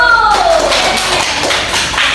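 Students in a classroom clap their hands together in a loud, dense burst that stays fairly even for a couple of seconds, with a voice briefly audible at the start.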